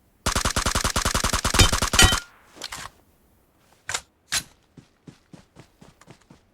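Rapid automatic gunfire in the mobile battle royale game PUBG Mobile, a loud sustained burst of about two seconds followed by a few sharp separate shots and soft footstep-like clicks, with no talk.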